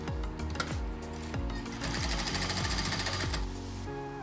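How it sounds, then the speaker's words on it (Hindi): A sewing machine stitches both sides of a cotton fabric strip for a shirt, running fast and close throughout with a rhythmic rattle and pitch dips that repeat about every half second. "अब हमारी ये दोनों साइड ओपन है तो हम स्टिच करेंगे इन दोनों साइड"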